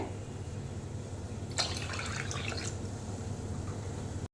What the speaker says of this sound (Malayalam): ആവശ്യത്തിന് വെള്ളം ഒഴിച്ചു കൊടുക്കാം ഒരു രണ്ട് കപ്പ് വെള്ളമാണ് ഒഴിക്കുന്നത്